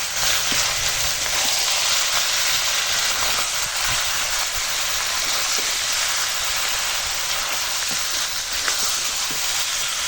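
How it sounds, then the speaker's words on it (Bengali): Chicken with salt, turmeric and chili powder, cooked with pointed gourd, sizzles steadily in a pan over a wood fire: a loud, dense, unbroken hiss that stays even throughout, with faint small crackles and no speech. "আর দিলাম পরিমাণ মতো হলুদ গুঁড়ো আর লঙ্কা গুঁড়ো এখন কষাবো"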